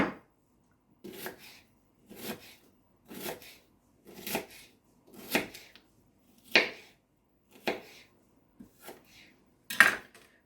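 A knife slices an onion into half rings on a board in regular crisp cuts, about ten strokes with short pauses between them and no talking.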